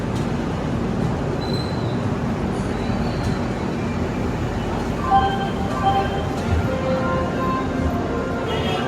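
A train rumbles steadily into Tirupati station at platform 1, with a low continuous roll and faint metallic squeals over the din, under muffled background chatter.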